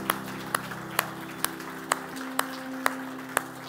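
A church congregation claps in a steady rhythm, with sharp, evenly spaced claps sounding over sustained keyboard tones.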